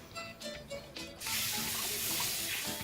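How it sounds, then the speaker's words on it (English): Tap water runs into a sink as hands are washed in a home kitchen, a steady broadband rush starting after a second of quieter clatter and continuing loud and unbroken to the end. "I'm going to give my hands a quick wash."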